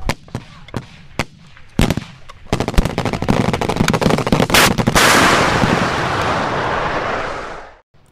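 Rapid gunfire in the ArmA 3 military game: scattered single shots give way to dense automatic bursts, then a loud sustained blast of fire and rumble that fades out at the end.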